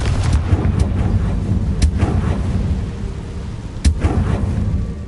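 A Confringo fire spell bursts in the Hogwarts Legacy video game, booming and crackling like distant artillery, with sharp blasts near the start, at about two seconds and just before four seconds over a steady rumble.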